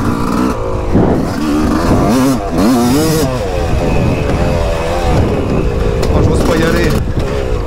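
A motorcycle engine revs and pulls while riding on a track, loud close drone with rising and falling pitch sweeps as the throttle opens, a rider's voice talking over it.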